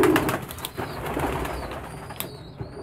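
Pigeons cooing nearby in a loft, soft throaty coos repeating over a steady bed of bird noise, with a brief flutter of wings and no talking.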